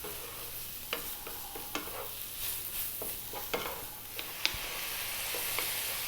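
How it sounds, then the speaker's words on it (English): Chicken and mushrooms sizzle steadily in a frying pan, with a spoon scraping and stirring in scattered taps and clicks up close, no voices. "We're probably going to get a little bit of moisture out of these mushrooms as they cook."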